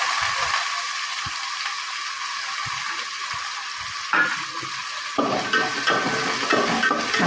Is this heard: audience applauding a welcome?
no